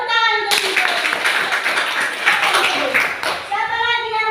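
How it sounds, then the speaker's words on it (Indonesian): Students clapping together in a classroom during a lesson, a burst of brisk, rhythmic hand claps lasting about three seconds, bracketed by a teacher talking before and after. "tepuk tangan untuk kesimpulan"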